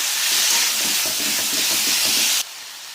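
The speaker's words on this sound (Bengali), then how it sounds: "সেদ্ধ করা ফুলকপি আলুটাও দিয়ে দিলাম ভালো করে কষাবো" Boiled cauliflower and potato sizzle and hiss in a pan as they are stir-fried, a loud continuous spray of frying that drops abruptly to a quieter hiss near the end.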